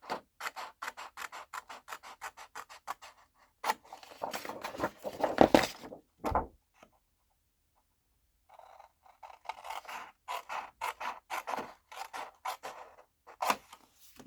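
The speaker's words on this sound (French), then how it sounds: "Je viens découper." Paper card for a watercolour flower card is being cut, a quiet run of rapid, evenly spaced scraping strokes, then a burst of rougher rubbing, a silent pause, and more rhythmic cutting strokes.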